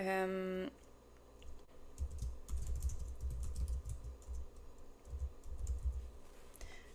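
Keyboard typing as text is entered, a steady run of close, light clicks with a low rumble underneath and a brief tone at the very start.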